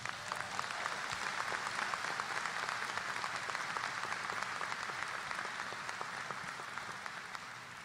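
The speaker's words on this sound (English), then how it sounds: "Let's give everyone a big round of applause." A large graduation commencement crowd of graduates, parents and families claps at length, with countless distinct hand claps merging into a broad, sustained roar that fades slightly toward the end.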